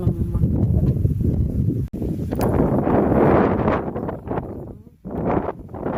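Strong gusty wind roars across the microphone, rising and falling in loud buffeting waves with no talking.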